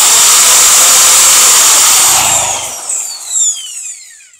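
A power drill runs loudly and steadily for about two seconds, then spins down with a falling whine before quieting, with no talk over it.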